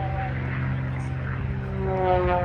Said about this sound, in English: A little mini loop as he forces the airplane around.